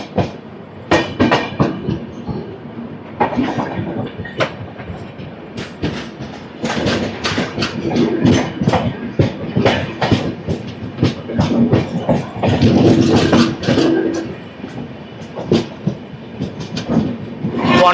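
The Secunderabad AC Superfast Express runs after leaving Tadepalligudem station, heard from inside with a rolling rumble and loud, irregular clickety-clack wheel beats over rail joints.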